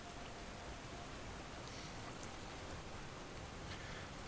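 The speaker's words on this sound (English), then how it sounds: "this rain is really loud on my end" Steady rain pours down in a dense, even hiss of drops on surfaces, constant throughout with faint scattered patters, quiet overall and with no voices.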